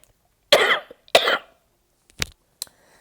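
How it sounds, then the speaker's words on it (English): Two sharp, close coughs from a person, followed by a couple of quieter throat-clearing bursts in an otherwise quiet room. "I'm so sorry for coughing"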